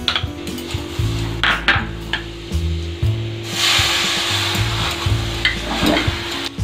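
Jaggery melting in vinegar is stirred in a wok, giving a steady scraping, rubbing sound with a low sizzle. The strokes come in a repeating rhythm and stay close throughout.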